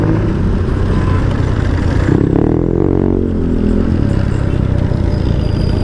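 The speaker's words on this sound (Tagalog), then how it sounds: "kampante naman tayo sa ingay ng tambutso natin" Motorcycle exhaust and engine drone steadily while riding on an overcast day, loud and close throughout with wind rush and a brief swell in the middle, no talking.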